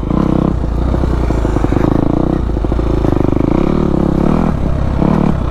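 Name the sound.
Kawasaki KX250F dirt bike engine revving while riding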